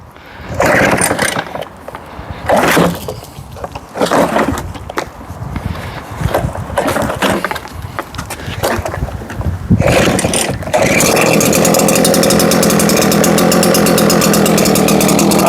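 A petrol backpack leaf blower engine is pull-started with several loud, ragged bursts of cranking and sputtering close by, then catches and runs at a steady, even drone.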